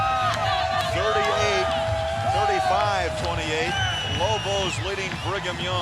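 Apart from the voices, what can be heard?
football stadium crowd cheering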